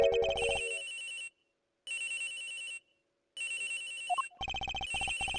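A cell phone rings from inside a suitcase, sounding three loud bursts of an electronic ringtone separated by pauses, then a fourth burst continues to the end. No one speaks.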